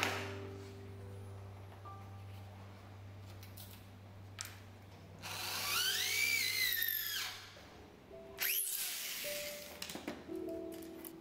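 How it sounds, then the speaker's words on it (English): A drill bores 4–5 mm holes through hollow bamboo near furniture joints, giving a couple of rising, whining bursts of a few seconds each over a steady low hum, with scraping handling noise between them. "Drill through and through 4mm to 5mm of drill holes near all the joinery"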